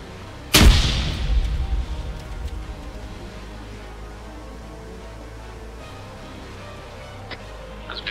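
A grenade explosion in the video game Arma 3: one sudden loud close boom with a rumbling tail that fades over a few seconds, followed by quieter ambient noise and faint distant pops.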